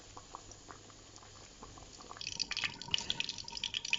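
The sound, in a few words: pasta boiling in water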